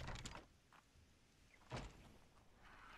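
A door opens in ARK Scorched Earth with a quiet mechanical sliding thunk, two soft bursts heard faintly against a low background.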